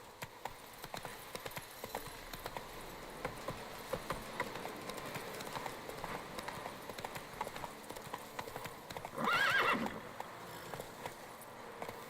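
Roach, a horse in The Witcher 3, trots with a quiet, continuous patter of hooves, and a short neigh breaks out near the end.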